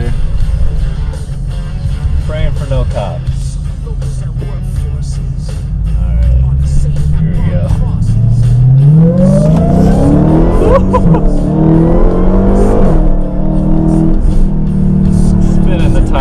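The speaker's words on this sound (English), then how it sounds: "Just listen to that supercharger and those downshifts." A 2019 Dodge Challenger Hellcat Redeye Widebody makes hard acceleration pulls, with a loud engine roar and rising supercharger whine climbing in pitch, then shifting and climbing again, heard from inside the car.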